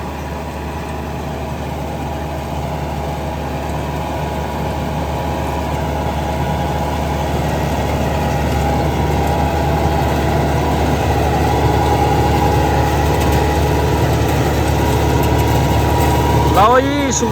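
A New Holland 850 tractor pulling a Supreme super seeder runs at a steady, loud, droning engine note with constant low rumble and vibration, close to the microphone throughout.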